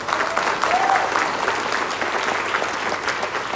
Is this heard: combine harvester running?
no